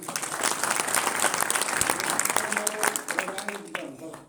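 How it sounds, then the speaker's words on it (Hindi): Audience applause at an event in a hotel hall in Zirakpur, a dense roar of many hands clapping at close range that holds steady, then thins and fades near the end, with voices chattering through it. "तो एक बार ताली दा बजाओ।"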